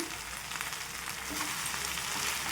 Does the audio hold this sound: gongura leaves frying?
yes